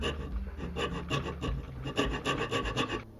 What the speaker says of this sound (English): Remove some material using the end of your rat tail file as well.